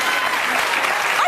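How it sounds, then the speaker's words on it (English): A studio audience on a morning television talk show claps in a loud, steady burst that lasts the whole short stretch with no voices on top. "I think they're going to clap up every response."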